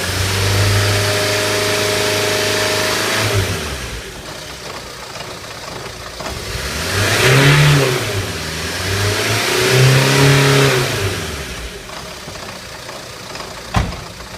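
A car engine in a workshop being checked for an ABS wheel sensor fault revs up twice, rising and falling in pitch between steadier idling, close and loud, ending with a sharp click.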